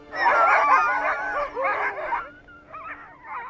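Sled dogs at an ice-fishing camp in Greenland bark and yip in a loud, busy chorus, then fade to scattered whimpers and short yelps near the end.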